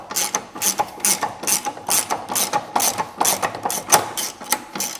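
A socket ratchet with a long extension bar clicks rapidly in repeated bursts of back-and-forth strokes, loosening a 10mm bolt on an MG ZS 180 front bumper, close and crisp, with no talking.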